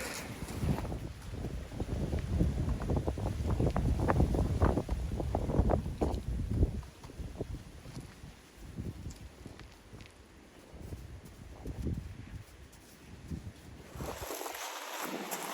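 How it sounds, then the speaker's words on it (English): Strong gale-force wind buffets the microphone outdoors on a building site, loud rumbling gusts that surge and ease over several seconds before calming briefly near the end. "It's blowing a gale."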